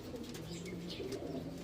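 Racing pigeons coo softly during a training flight in La Paz, Tarlac, giving a low, rolling murmur in the near background that runs on without pause, with no talk.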